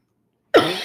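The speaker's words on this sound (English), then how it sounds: "Oh my God, I can't stop coughing." A single sharp cough bursts out after half a second of silence, loud and close, then trails off.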